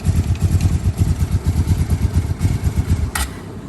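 A Suzuki LTZ 250 ATV engine idling up close, a loud, steady, lumpy single-cylinder putter with even rapid pulses and a sharp clank near the end.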